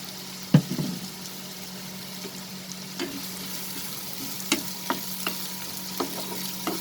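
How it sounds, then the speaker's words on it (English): Chopped onion hitting hot mustard oil in a pan gives a sharp initial crackle, then a quiet steady sizzle punctuated by intermittent light taps and stirring clicks. "I am going to add the chopped onion"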